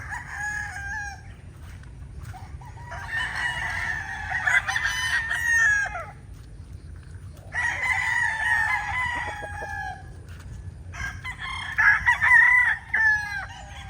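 Several roosters crow in turn, long rising calls repeated about three times, with a steady low background rumble throughout during rainy weather.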